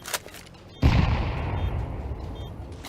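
A sudden heavy grenade blast in Arma 3 lands loud and close, its rumbling boom trailing into a sustained roar with faint distant gunfire behind it.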